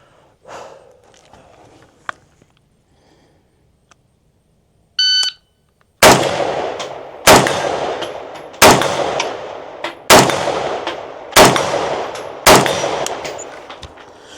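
Six sharp carbine gunshots fired at a 50-yard line on an outdoor range, each a loud crack with a ringing decay, evenly spaced about a second and a half apart after a shrill timer beep.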